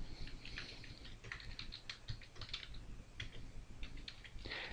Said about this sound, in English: I can type in a new title